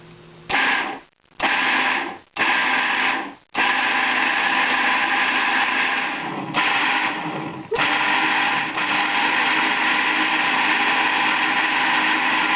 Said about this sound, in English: I've got my food processor filled to the top with berries. I'm just going to pulse them until they get nice and smooth.